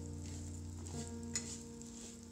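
Cracked wheat roasts in ghee in a pan over a medium gas flame, giving a faint, steady sizzle with soft stirring throughout.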